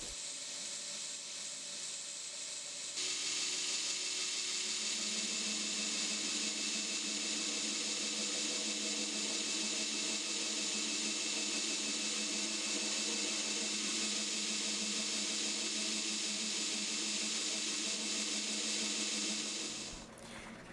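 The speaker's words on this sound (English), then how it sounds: "Now I'll head back over to the grinder to rough out a Coke bottle shape into the handle." A belt grinder roughs a Coke bottle shape into a knife handle, spinning up after a few seconds into a steady high whir with a grinding hiss, running continuously before winding down at the end.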